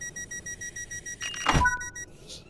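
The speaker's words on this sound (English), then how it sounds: "Give it a second and we'll press the buzzer." On a Class 350/1 train, a guard's buzzer is pressed: a run of evenly spaced electronic beeps, then a louder, rougher buzz burst that fades into a quieter tone.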